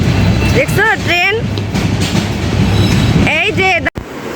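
A train runs past a busy market in Mirpur, a continuous loud rumble and clatter with road traffic noise, while voices talk and call over it.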